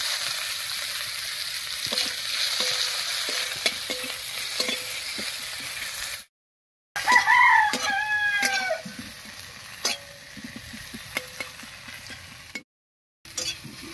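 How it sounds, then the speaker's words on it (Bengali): Chopped onion and whole cumin sizzle loudly in hot oil with whole garam masala, with stirring scrapes throughout, two brief dropouts, and a rooster crowing in the background midway. "দিয়ে দেবো সামান্য একটু পেঁয়াজ কুচি।"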